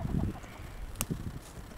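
Chickens near a chicken house give faint, scattered clucks against a low background hum, with one brief sharper call partway through.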